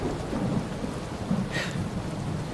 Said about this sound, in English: it's been thunder and lightning for hours.